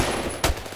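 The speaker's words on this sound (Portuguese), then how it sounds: "da onde que tá o cara que tá atirando aqui?" Gunfire in the Roblox game Phantom Forces: two sharp, loud shots ring out close together over a steady background hum, brief and abrupt.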